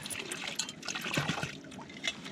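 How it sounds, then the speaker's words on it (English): A small stream beside a wild camp in the Lancashire Pennines on Pendle Hill trickles and burbles continuously close by, with irregular splashy gurgles and no talk. "there's a little stream just next to me here"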